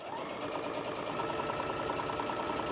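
A sewing machine stitches a tote bag in one steady, continuous run, its fast even whirring and needle chatter heard up close with no talk.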